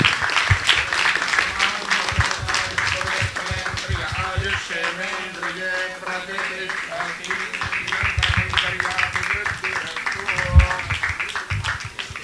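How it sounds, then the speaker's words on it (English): Audience applause at a Hindu temple gathering streamed live, a steady sustained clapping over about twelve seconds with background music tones and some voices underneath, fairly loud and continuous. "Give a big applause to Dr. Kumar."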